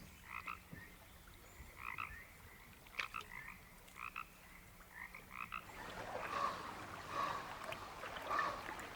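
Introduced tree frogs croak on Haida Gwaii in repeated, evenly spaced bursts that later swell into a denser, louder chorus, with a faint trickle of water beneath and no voices.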